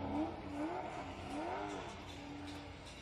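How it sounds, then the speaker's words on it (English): A V8-powered S14 drift car revs its engine while warming its tires at a Formula Drift Pro2 round in Atlanta, a steady sustained engine note with rising and falling pitch sweeps over continuous crowd and track noise. "Randall Waters warming up his tires."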